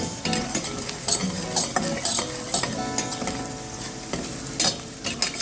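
Garlic, onion and pimentos sautéing in a pan for Trini-style bhaji, a close, constant sizzle with frequent rhythmic scraping and clinking as a utensil stirs them, no speech.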